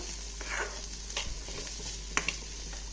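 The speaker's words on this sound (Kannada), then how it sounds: "ಸೊ ಕ್ಯಾರೆಟ್ನ ಕೂಡ ಸ್ವಲ್ಪ ಫ್ರೈ ಮಾಡೋಣ" Onion and carrot fry in a pan with a moderate sizzle, interrupted by several scraping stirs and a couple of sharp clinks near the end over a low steady hum.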